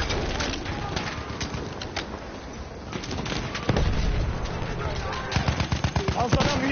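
Machine gun fire in the Battlefield 1 video game, with sharp repeated bursts and distant battle noise, moderately loud, with voices talking over the fighting.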